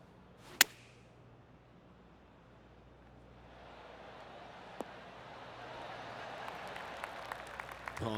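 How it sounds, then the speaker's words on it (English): Gentle golf-clap applause from a small crowd in PGA TOUR 2K23, rising softly after a sharp club strike and continuing as light scattered clapping toward the end. "Oh, golf clap."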